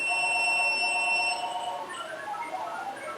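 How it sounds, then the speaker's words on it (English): A security alarm system sounds after a touch sensor is triggered, giving steady electronic beeping tones that start loud, drop slightly after about one and a half seconds and then carry on with shifting pitches. "This touch sensor, it will activate the alarm"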